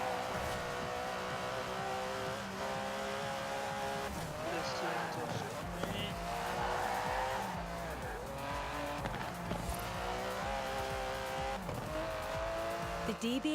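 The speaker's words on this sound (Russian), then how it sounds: "Я пока тачку разгоню." An Aston Martin DB11 accelerates in Forza Horizon 4, its engine revving up through rising tones with tire squeal and skidding, loud and sustained, while a narrator and a player talk over it.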